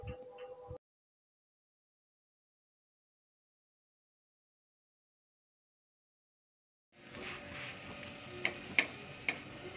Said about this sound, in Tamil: சேம் பேனில் கொஞ்சமாக எண்ணெய் போட்டுட்டு ரெடி பண்ணி வச்ச அந்த பரோட்டாவை நான் போட்டிருக்கேன்